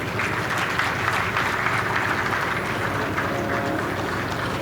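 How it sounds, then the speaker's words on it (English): Sustained applause from an audience at the Imo State investment summit in Owerri, a steady dense wash of clapping with crowd noise that holds evenly throughout. "A round of applause for Her Excellency."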